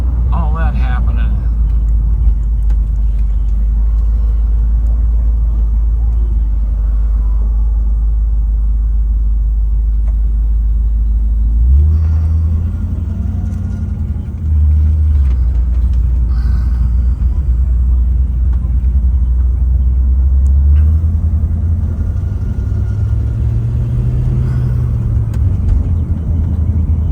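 A yellow 1965 Ford Thunderbird convertible cruises down a freeway, its engine a loud steady low rumble under heavy wind and road roar, with gear or speed changes shifting the engine drone partway through.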